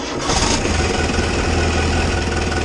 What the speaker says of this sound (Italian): adesso accendo il trattore per vedere il funzionamento del cambio